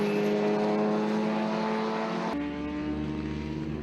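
Race cars circuit racing on a track produce a continuous, loud engine drone with high-pitched whine, shifting to a different engine note partway through as the cars pass. No talking.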